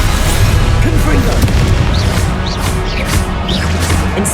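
A Confringo blasting spell explodes in the video game Hogwarts Legacy, giving heavy booming crashes amid continuous loud combat effects, with a voice calling out over the action.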